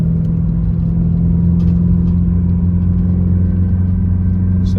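A Subaru WRX engine hums with a steady, loud low rumble under light acceleration and deceleration while driving, the tone shifting only slightly, with no talk.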